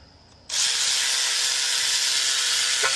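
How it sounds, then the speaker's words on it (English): A power drill whirs to life after a brief quiet moment and runs steadily at high speed, close and loud, driving a Torx bolt on a VW 1.8T valve cover. "I'm gonna just tie them down with the drill first"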